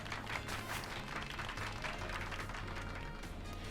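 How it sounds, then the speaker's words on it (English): Applause in the video game Pokemon Violet: a faint, steady wash of crowd clapping lasting several seconds, quiet and even throughout, with no one speaking. "But we'll clap anyway."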